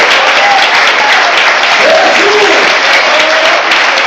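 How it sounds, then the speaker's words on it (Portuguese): A church congregation breaks into a loud, dense round of applause that holds steady and unbroken from start to finish, with no voices rising above it. "E você pode saudar com uma salva de palmas."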